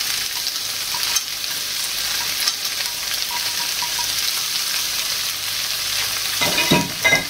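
Sliced courgette sizzles and fries steadily in a hot pan, a constant bright hiss with brief stirring scrapes near the end.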